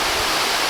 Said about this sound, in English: I've been dreaming of waterfalls.